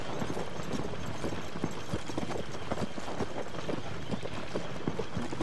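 A horse galloping in the video game Zelda Tears of the Kingdom: a steady run of rapid hoof clip-clops, moderately loud and close, over a soft ambient game background with no talking.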